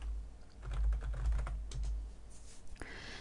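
Computer keyboard keys tapped in a short burst while entering a query name in a database program, quick close clicks lasting a few seconds.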